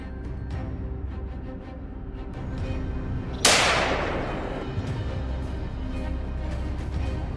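A single loud rifle shot during a wild boar hunt among pine trees, a sharp crack partway through that rings out and decays over a steady rumble of background noise.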